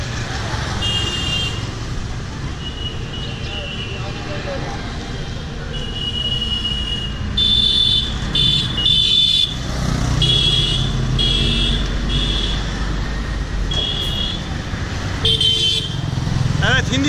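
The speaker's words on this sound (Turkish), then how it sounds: "Gördüğünüz gibi trafik şu an çok yoğun şekilde akıyor." Heavy traffic flows along one of the busiest streets in Agra, India: engines rumble and scattered horns honk repeatedly at close range, with someone talking over the din.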